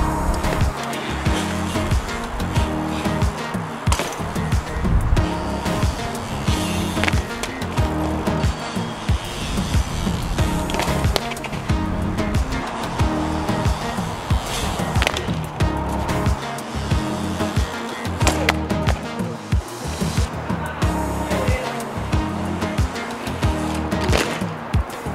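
Skateboard wheels roll steadily across pavement during repeated opposite-foot manual 180 attempts. A loud, continuous rumble runs throughout, broken by occasional clacks and knocks of the board, with no voices.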